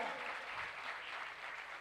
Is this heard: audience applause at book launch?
yes